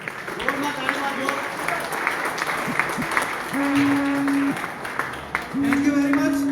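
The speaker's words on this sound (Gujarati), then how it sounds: "જોરમાં તાળી પાડો." An audience at an award ceremony claps in a sustained round of applause, with a voice talking over it and sustained tones sounding intermittently in the background.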